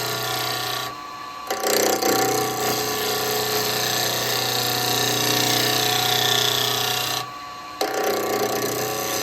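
Roughing gouge cutting a wooden bowl spinning on a lathe, a steady loud rasping, scraping hiss that runs nearly continuously with two brief breaks, close up.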